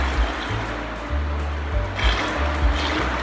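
Homemade almond milk is poured into a makeshift container. It makes a continuous close trickling, sloshing stream for a few seconds, with irregular low thumps under it.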